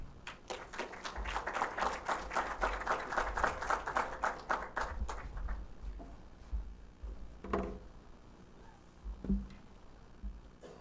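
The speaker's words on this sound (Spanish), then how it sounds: "Le brindamos un fuerte aplauso." An audience at an electromobility talk in Antofagasta gives dense, steady applause for about five seconds. It then thins into scattered claps and quiet room noise with a few faint knocks.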